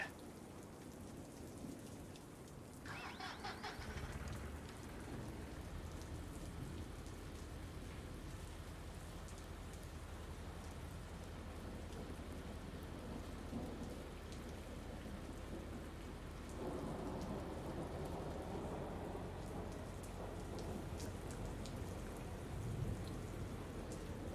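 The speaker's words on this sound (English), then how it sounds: "Rain bad." Rain and thunder in the Farming Simulator 19 video game, a steady hiss of rainfall on surfaces throughout with low rumbling thunder swelling in the background, continuous and without speech.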